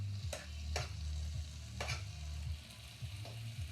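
Strips of bacon sizzle steadily in a hot pan at close range, broken by a few sharp scraping clicks as a fork pushes the pieces aside to make room for more.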